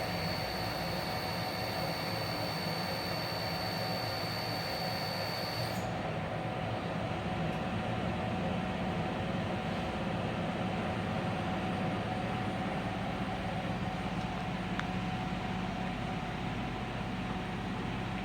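An Akira Seiki SV 2060 CNC vertical machining center runs its spindle at 1000 RPM, producing a steady, continuous broadband machine hum with a faint high whine that drops away partway through.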